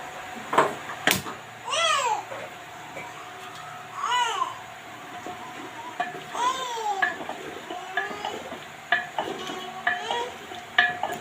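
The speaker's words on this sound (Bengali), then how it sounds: "তোমার গোশটাকে এরম করে নাকি দিয়ে ভালো করে কষে নিতে হবে" Meat for gosht kosha being stirred and fried in a pot, with steady scraping and stirring strokes over a low sizzle, loud and close, broken by a few sharp clanks from the utensil.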